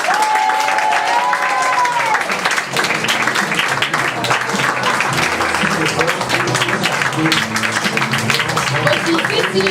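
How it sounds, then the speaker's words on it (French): Loud, sustained audience applause and cheering at an improv theatresports show as the challenging team is welcomed, dense clapping filling the room throughout with crowd voices and whoops mixed in. "je vous demande de faire un autre tonnerre d'applaudissements pour les BHL"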